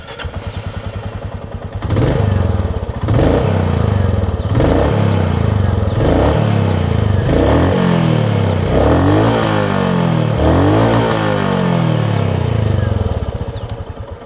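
A Royal Enfield Meteor 350 motorcycle engine runs close by, idling with a steady thrum, then revs repeatedly in rising and falling bursts before settling back.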